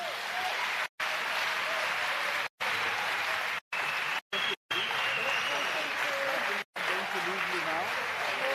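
A large audience applauding after a speech at a presidential summit on gender-based violence and femicide: sustained, even clapping from a big crowd, cut by several abrupt brief dropouts to silence.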